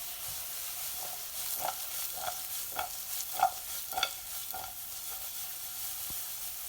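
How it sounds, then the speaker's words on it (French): Onions and fennel sautéing in a pan, a soft background sizzle broken by a series of distinct stirring knocks and scrapes every half second or so, fairly quiet and close. "Je vais mettre les oignons. Et pareil, je vais les faire sauter."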